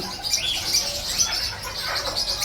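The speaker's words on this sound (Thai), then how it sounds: "เสน่ห์ของนกเขาก็คือเสียงนี่แหละครับ" Soft zebra dove coos and chirps with faint wing flutters, a busy bird chorus at Chatuchak pet market continuing steadily throughout with no talking.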